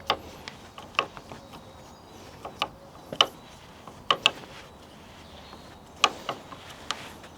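Bolts on a Thule Wanderway bike rack fitted to a VW T6.1 campervan are tightened with a ratchet, giving sharp irregular clicks spaced across several seconds, close and crisp with no talk.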